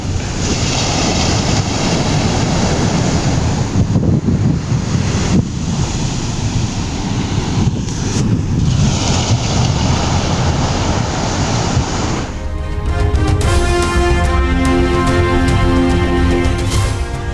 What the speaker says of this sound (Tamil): திருவள்ளூர் மாவட்டம் பழவேற்காட்டில் கடல் சீற்றம்